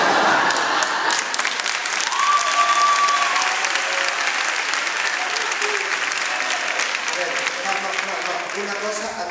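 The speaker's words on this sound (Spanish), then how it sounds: "aquí mucho aplauso, mucho aplauso" Audience applause at a speech event, a dense, steady wash of clapping heard close and sustained, tapering slightly toward the end, with some voices mixed in.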